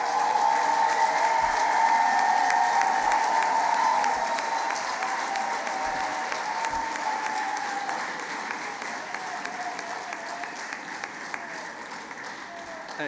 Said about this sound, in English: show your appreciation of them with a big round of applause